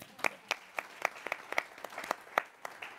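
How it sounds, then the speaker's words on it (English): Sparse clapping from a small audience at an organizational meeting, a handful of distinct, sharp claps scattered unevenly over three seconds rather than a full ovation, fairly quiet overall. "give her a round of applause"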